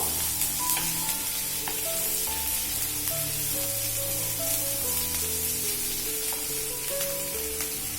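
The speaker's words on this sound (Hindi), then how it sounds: "शिमला मिर्च डाल के हमें बहुत ज्यादा नहीं भूनना है इसको" Capsicum frying in a pan with softened onion for murmura poha produces a steady, dense sizzle, close and fairly loud throughout, with faint tonal music running underneath and occasional soft stirring clicks.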